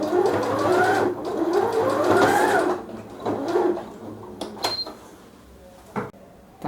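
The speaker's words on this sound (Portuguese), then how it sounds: "Aqui na máquina eu vou costurar primeiro o rabinho." A sewing machine stitches the small giraffe tail for a nursing pillow, with a close, rising whirring run in the first few seconds, then scattered clicks and handling knocks.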